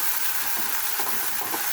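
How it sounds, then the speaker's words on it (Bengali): Ginger-garlic paste and cumin paste fry in a pan with a steady, close sizzle and faint stirring, no voices. "আদা রসুনটা একটু ভালোভাবে ভেজে নিচ্ছি, যাতে আদা রসুনের কাঁচা গন্ধটা না থাকে।"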